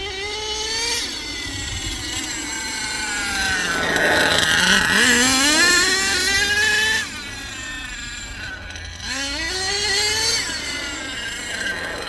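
An HPI Savage RC truck's nitro engine runs loud and close, its buzzing whine climbing in pitch as it revs, dropping off, then revving up again in a repeated rise-and-fall pattern.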